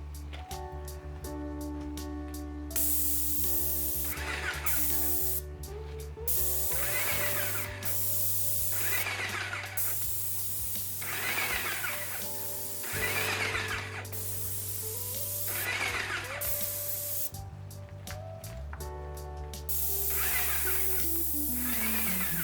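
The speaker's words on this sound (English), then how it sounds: "This is my first time ever spray painting trim" A paint sprayer fed by a hose sprays house trim in long, loud hissing bursts, a dozen or so passes separated by short pauses, close by and alone over a low steady compressor hum.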